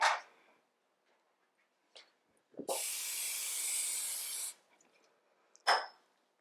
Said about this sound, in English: Spray your pan.